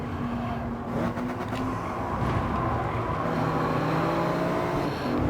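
The 2020 Gazoo Racing Yaris race car in Gran Turismo 7 drones loudly and steadily close by, its engine note rising as it accelerates through gears, with other cars' engines around it on track.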